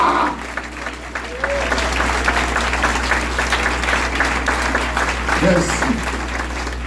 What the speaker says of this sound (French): Et maintenant, applaudissons.